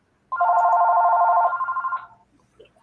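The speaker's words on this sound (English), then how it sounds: "the phone starts ringing" A telephone rings once in a loud, close electronic trill that holds for under two seconds, then breaks into fast pulsing before stopping, with quiet room noise after.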